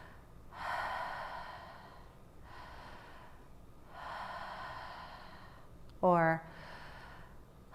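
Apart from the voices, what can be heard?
breathing exhale during breathwork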